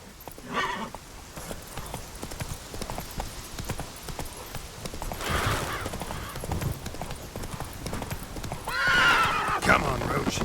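Roach, a horse in The Witcher 3, gallops with rapid rhythmic hoofbeats that run throughout, plus a couple of whinnies, under game music and a speaking voice.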